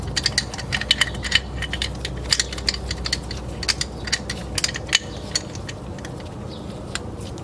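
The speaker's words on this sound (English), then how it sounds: "And as I'm turning this, it's pushing the piston back in." Rapid metallic clicking and ratcheting as a turning tool pushes a brake caliper piston back in on a 2013-2020 Ford Fusion front brake, dense irregular ticks close up with a faint steady hum beneath, no talking.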